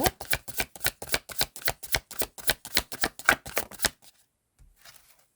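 A rapid, even run of about fifteen crisp snaps as tarot cards are flicked off a deck one after another, close up, then silence, then a faint soft rustle as a card is drawn.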